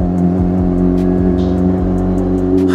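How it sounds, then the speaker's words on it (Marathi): A vehicle engine droning loud and close on a night ride, a steady low hum with a few small rises in revs and no talk. "किती दिवसांनी गाडीचा आवाज ऐकतोय यार."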